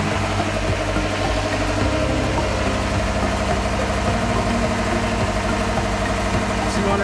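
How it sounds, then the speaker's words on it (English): A boat engine with its alternator charging runs steadily at about 1600 RPM, giving a loud, continuous mid-pitched drone with a rhythmic throb and vibration throughout, heard close up. "Now brought the RPM up to about 1600."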